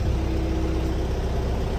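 A 2021 MTZ tractor drives along with its diesel engine running steadily, a loud continuous low rumble close by with no talk over it.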